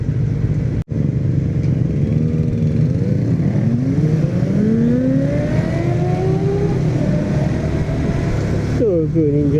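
A Kawasaki Ninja 250 motorcycle engine revs up in a series of rising, whining sweeps, loud and close, over a steady riding rumble.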